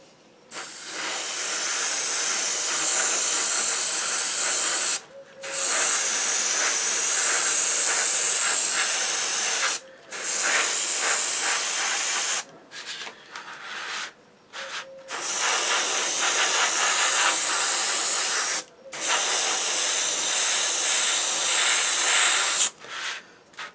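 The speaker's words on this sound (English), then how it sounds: "It's not going to hurt to spray more paint on." An airbrush sprays lacquer paint onto a Tamiya Skyline scale model in loud, steady hissing bursts of several seconds each, separated by short pauses and a few brief clicks of the trigger.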